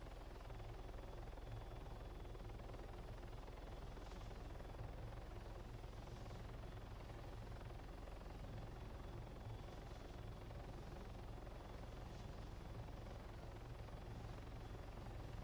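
A helicopter in flight during a flight training exercise, heard as a steady, continuous rotor and engine drone with low thumping, holding at an even level throughout with no talk.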